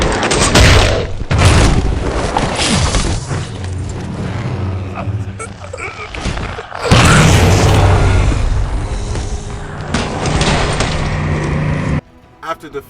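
Heavy booming explosions and rumbling blasts from Halo 4 during the fight with the Didact, loud and layered over a dense game score, with a sharp surge near the middle before cutting out.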